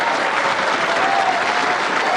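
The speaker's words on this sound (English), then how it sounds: "Don't be clapping for me." A studio audience claps for a podcast welcome, dense and even applause filling the room at close range without a break, with a voice speaking faintly underneath.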